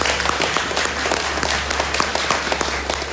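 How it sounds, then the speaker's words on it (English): A crowd applauding steadily, dense clapping filling the space without a break, with no voices standing out. "So please give them a shout and a round of applause."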